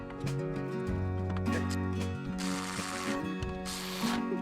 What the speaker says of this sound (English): Put her fan shroud back in.